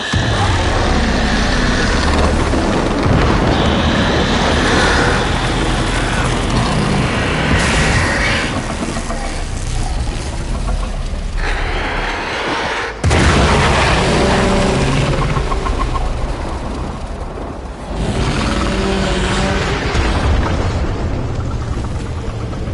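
A video game explosion booms loud and sustained, with falling debris rumbling through a dense, continuous roar that briefly cuts out and resumes.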